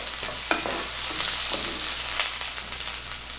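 Half a white onion hits a hot pan, giving a steady sizzle with scraping stirring strokes throughout, close and fairly loud, with no voices.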